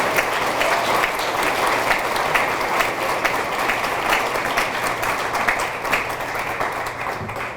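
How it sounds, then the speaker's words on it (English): An audience claps steadily at a high school athletic hall of fame induction ceremony, a dense, sustained applause from a full hall that stays even for several seconds and eases slightly at the end. "Let's give all of our athletes and contributors a big round of applause."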